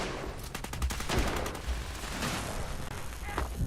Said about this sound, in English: Somebody's just blasting away with the Tesla cannon over here.